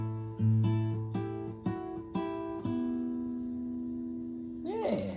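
Strings are plucked one after another on a guitar-like instrument, building a chord whose notes sustain and ring out together, ending with a brief sliding squeak near the close.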